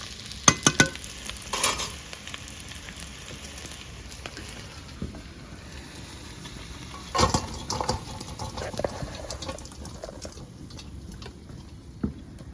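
Pakoras of eggplant and cauliflower sizzling in hot oil in a village kitchen, a steady soft crackle with a few louder stirring scrapes and clatters now and then, no voices.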